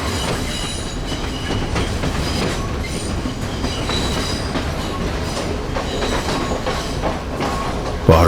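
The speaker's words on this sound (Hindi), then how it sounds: "इसमें से एक ब्रिज के ऊपर से हम अभी गुजर रहे हैं।" Train carriages rumbling over a bridge on a Sri Lankan mountain railway, a steady loud clatter of wheels and rail noise throughout, heard from inside the moving train.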